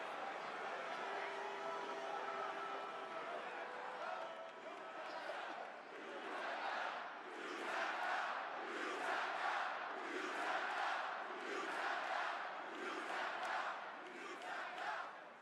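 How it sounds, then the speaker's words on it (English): A wrestling crowd at a RAW broadcast roaring and cheering in rhythmic swells, like a chant, loud and sustained from a large arena, with commentary talk underneath. "Crowd's going crazy."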